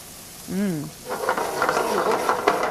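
Heavy cream poured into a hot, brandy-glazed pan with morels bursts into a close, steady sizzle and bubbling hiss, preceded by a brief vocal sound.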